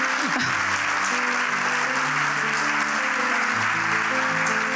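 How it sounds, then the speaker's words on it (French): An audience applauds at the Trophées des Maires de la Loire 2024 awards ceremony, with dense, sustained clapping that fills the whole stretch at a steady, loud level. "on peut les applaudir parce qu'ils avaient un peu peur de monter sur scène"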